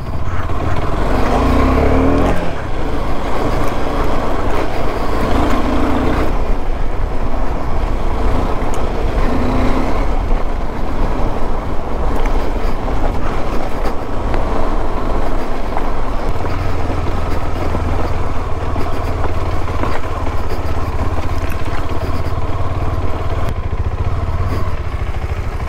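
KTM 390 Adventure and Royal Enfield Scram 411 motorcycles on an off-road ride, engines droning loud and continuous throughout with wind buffeting, revving rising and falling over rough ground.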